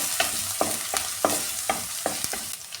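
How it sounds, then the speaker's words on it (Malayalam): Crushed ginger and garlic fry in hot oil while a spoon stirs them, giving a steady sizzle broken by about seven sharp, regular scraping strokes against the pan, close and clear with no talking. "ഇഞ്ചിയും വെളുത്തുള്ളിയുടെ റോ ഫ്ലേവർ ഒന്ന് മാറുന്ന വരെ നന്നായിട്ട് ഇതിലിട്ടൊന്ന് ചൂടാക്കി എടുക്കാമേ"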